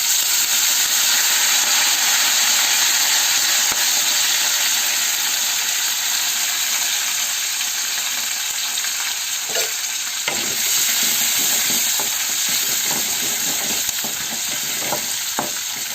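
Curry leaves and green chillies fry in hot oil in a pan, a loud, steady, close sizzle. Irregular stirring clatters join in during the second half.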